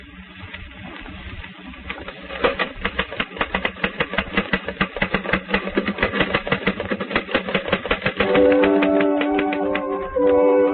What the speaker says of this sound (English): Yes, Charles, you're busy typing on a phonograph record.